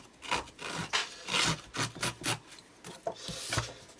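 Paper page edges are scuffed to give them a rough deckle edge, making a series of quick, soft, dry rubbing and scratching strokes, close and fairly quiet, with an irregular rhythm and no talking.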